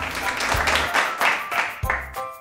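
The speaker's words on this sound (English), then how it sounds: "When we are feeling happy, we can clap our hands." Hand claps beat in time with a bouncy children's sing-along melody, a few rhythmic claps landing over the music at close range.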